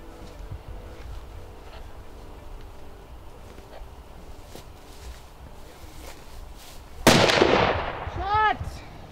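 A hunting rifle fires at a klipspringer bull in Zimbabwe's Savé Valley Conservancy, one sharp, loud report after quiet outdoor ambience with faint movement, followed by a brief ringing tail.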